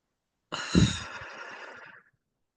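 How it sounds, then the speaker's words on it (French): A single deep, breathy exhale during a classroom relaxation breathing exercise, close and alone, lasting about a second and a half before fading to silence. "on va prendre 3 grandes respirations"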